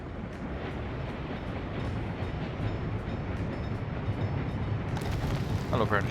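Coal trains rumble along steadily in the MegaCity 19 game, a continuous rolling clatter with faint periodic ticks and a brief rise in hiss near the end.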